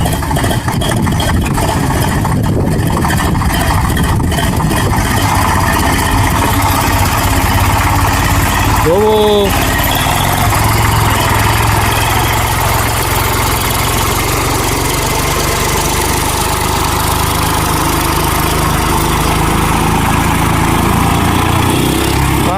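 A tractor loaded with sugarcane churns through deep water, its engine running steadily and loudly throughout with a low rumbling drone, while voices talk over it.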